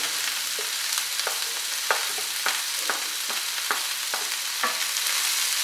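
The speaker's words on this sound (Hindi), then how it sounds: "सारी सब्जियों को हम स्टर फ्राई करेंगे, तेज आंच पर हम इनको भूनेंगे।" Peas, carrots and green chillies stir-frying over high heat, a steady hiss of sizzling broken by repeated sharp scraping clatters of a spoon in the pan, roughly one every half second, close and alone.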